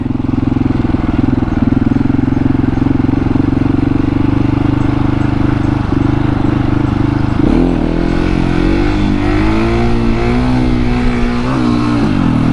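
A KTM 701 Supermoto motorcycle engine drones loudly and steadily up close in first gear, then its pitch swings and climbs as the throttle is worked for a wheelie, with wind buffeting throughout.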